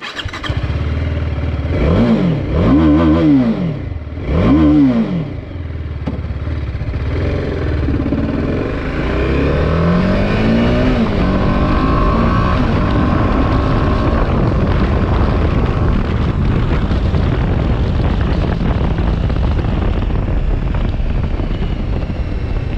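A 2021 TVS Apache RR 310 motorcycle revs close by in a few rising and falling bursts, then settles into a steady loud engine roar with wind buffeting; no one speaks.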